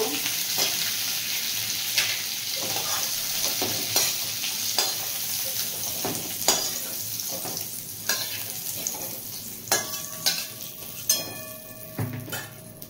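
Cauliflower frying in a pan over a constant sizzle, with intermittent spoon scrapes and clinks against the metal, close and continuous with no voices.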